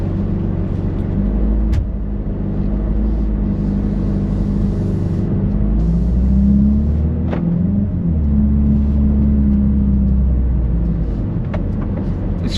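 A 2025 Mercedes-AMG CLA 45 S Coupe with a 416-horsepower turbocharged engine in Sport Plus mode, heard from inside on the move, giving a loud, continuous low engine drone and road rumble that rises and eases slightly.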